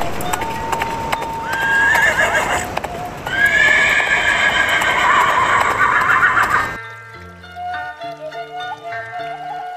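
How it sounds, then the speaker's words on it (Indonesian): A horse arrives with a rider, whinnying loudly and repeatedly over steady clip-clopping hooves nearby, then the sounds cut off abruptly and give way to quiet music. "datanglah seorang laki-laki berkuda"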